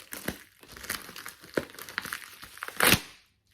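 Taped packaging around a parcel of jewelry beads crinkles and tears close up in quick, uneven bursts, ending with one louder rip before falling silent.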